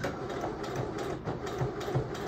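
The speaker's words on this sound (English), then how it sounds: "now let's see if it'll sew through all this" A Singer sewing machine drives its needle through thick layers of pillow fabric with a steady, close, rhythmic mechanical whir and thumping stitches.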